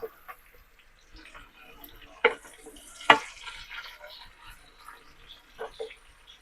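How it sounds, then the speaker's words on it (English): Sausages fry in a pan under a lid, giving a low, soft sizzle with a few sharp clatters and stirring knocks, and a voice talks in between. "Give these sausages another flip."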